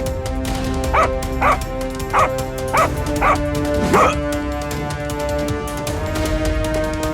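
Cartoon dogs let out about six short, yappy barks in quick succession over a sustained musical backing, spaced roughly half a second apart before the music carries on alone.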